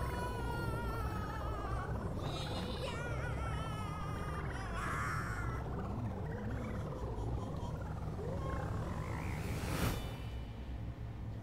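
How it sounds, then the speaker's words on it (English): A frog in the Super Mario Odyssey video game croaks repeatedly in throaty, warbling calls over a busy game soundscape, ending with a sharp bright burst near the close. "Captured a frog."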